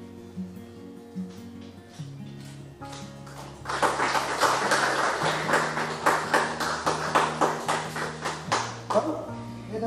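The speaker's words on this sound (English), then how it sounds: "Come, let us clap our hands" Graduation audience clapping hands, joining in over music with sustained tones, the claps building into a loud rhythmic patter that continues steadily to the end.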